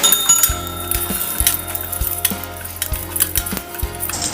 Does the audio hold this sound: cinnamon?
yes